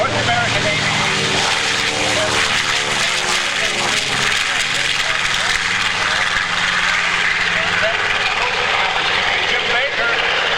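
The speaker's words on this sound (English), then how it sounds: "Jim Baker is the pilot from Denver, Colorado on that B-25" North American B-25 bomber at the Cleveland airshow, its piston engines producing a steady, loud, continuous drone throughout, with a voice speaking over the engine noise.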